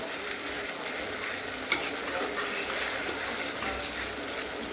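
Spiced chicken masala, red and hot, sizzles steadily in oil as it is stirred and fried in a pan. Scraping stirs break through the constant close frying hiss now and then, and no one talks.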